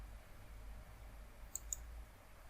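Two sharp computer mouse clicks in quick succession while saving a file, close and distinct over a low, steady room hum, with no talking.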